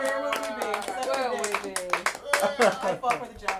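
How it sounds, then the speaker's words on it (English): An audience claps at a live stand-up comedy show, with sharp bursts of applause breaking through and mixing with a speaker's voice at the mic. "Can we give her a round of applause?"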